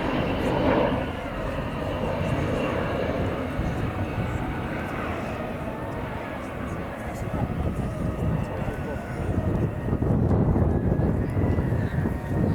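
Airplanes at the Royal International Air Tattoo, a steady broad engine roar and rush filling the whole stretch, loud and continuous with a swell near the end, with talk over it.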